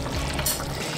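Water is poured into a pot of cooking chicken, a brief, steady rushing and splashing that is soft and close.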